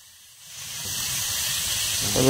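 Fish frying in a pan, a rising hiss of hot oil that swells from quiet to a steady broad sizzle, growing louder toward the end.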